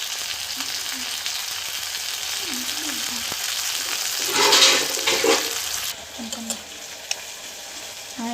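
Chopped onions fry in a little oil for tomato soup, giving a steady close sizzle with occasional stirring scrapes, then the sizzle drops quieter near the end, with brief faint voices in the background.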